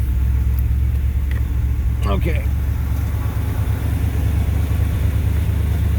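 A car engine rumbles steadily at idle, loud and close, with a low throbbing drone; a voice briefly speaks over it.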